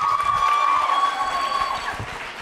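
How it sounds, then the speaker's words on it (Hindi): Audience applause for a dance performer at a girls' teacher-training college anniversary event in Jaipur, a dense, steady clapping from a full hall that holds strong for over two seconds and only eases slightly at the end. "तालियां जोरों से बजाइए उमा कंवर के लिए"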